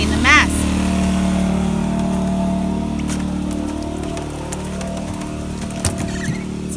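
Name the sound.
generator running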